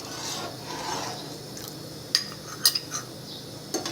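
A spoon stirs soaked custard powder into warm milk in a pan for a melon milkshake and falooda, giving soft scraping rasps along the pan with a few light metallic clinks near the end.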